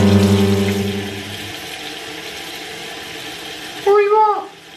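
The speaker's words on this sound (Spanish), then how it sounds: "vamos a poner ya los subrayadores debajo del grifo" Highlighter pens are held under a running bathroom tap. Steady rushing water with a low humming tone at first fills the clip, and a voice speaks near the end.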